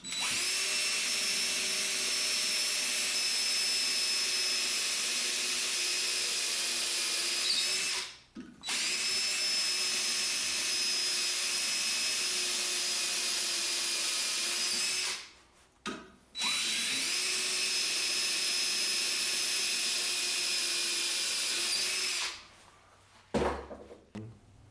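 A power drill bores dowel holes in wood clamped for angled dowel joinery: three long, steady, loud whining runs separated by short pauses, with no voices.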